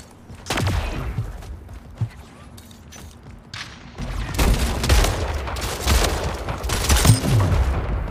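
Shotgun blasts from the Splitgate video game, a few sharp booming shots spread through a busy stretch of continuous in-game gunfire and clatter, with voices talking over it.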